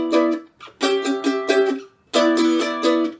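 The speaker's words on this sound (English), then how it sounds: "one of the patterns you could use is down, up, and then rest" Mandolin strummed in a relaxed jazz-grass waltz feel, down and up strokes followed by a rest, bright ringing chords repeating in two clear groups, played alone up close.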